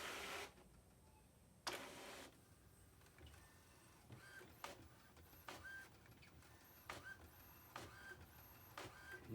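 A home printer feeds paper and prints, producing faint repeated mechanical clicks, whirs and short sliding bursts in an uneven rhythm over a quiet room background.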